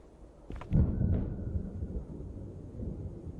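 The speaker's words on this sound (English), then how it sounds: "I hear a thunder strike from the cloud above Dimlows." A thunder strike from a cloud in a dark fantasy video game lands as a sudden crack, then a heavy low rumble rolls on for a few seconds and slowly fades.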